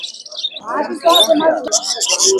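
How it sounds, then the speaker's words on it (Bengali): Fischer's lovebirds chirp and tweet in bright, rapid bursts at a pigeon market, loud and near, mixed with a person talking throughout. "এখানে তিনটা লাভ বার্ড দেখতে পাচ্ছেন ফিশার জাতের লাভ বার্ড"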